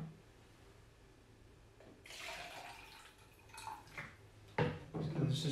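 Water splashes and gurgles into the tank of a MultiPlaz 3500 plasma cutter, starting after a quiet moment and growing fuller and louder toward the end.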